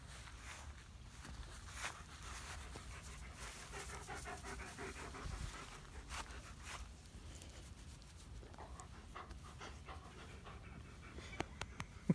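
A dog pants quickly and steadily nearby, with faint rustling and a few small taps and shuffles underneath.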